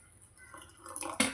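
Water is poured into a bowl of veggie waffle batter, a faint, soft trickle that builds into a brief splashy gurgle at the end.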